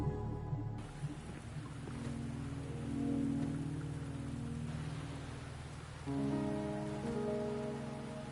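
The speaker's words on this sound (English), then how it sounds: "Are you trapped here by the rain?" Steady rain in a video game, a continuous hiss of falling water layered over sustained low musical tones that shift partway through, with no talking.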